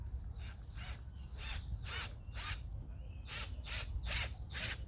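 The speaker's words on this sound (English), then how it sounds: "And then you just drive your screw in there." A screw is driven into a raised garden bed frame, with a series of short, bright bursts of rasping power-driver noise over a low rumble, closely spaced and near.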